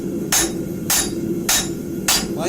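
A blacksmith hammers bevels on metal close to the anvil shelf, giving four evenly spaced, sharp ringing strikes about half a second apart over a low steady background hum.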